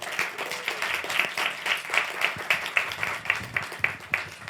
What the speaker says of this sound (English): Let's give another round of applause for both of our speakers.